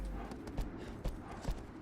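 A horse's hooves clip-clop in Shadow of the Colossus, sounding as several rhythmic, moderately loud thuds spaced about half a second apart over a low background.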